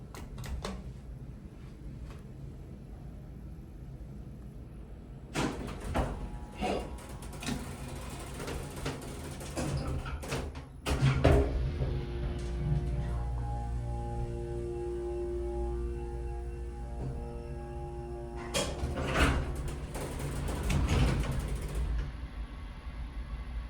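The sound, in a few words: original Houston hydraulic elevator ride with relay clicking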